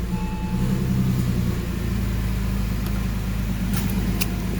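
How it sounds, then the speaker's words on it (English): A Porsche 911 996 engine idles just after starting, a steady close low rumble with a slight uneven pulse. A couple of short clicks come near the end. "Car is on now."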